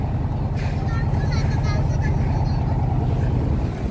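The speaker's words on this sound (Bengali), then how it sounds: "ঘাট থেকে অলরেডি নৌকা ছেড়ে দেওয়া হলো" A large wooden boat's engine drones low and steady as it pulls away from the ghat on the Nikli haor in windy, rainy weather, with brief muffled voices over the rumble.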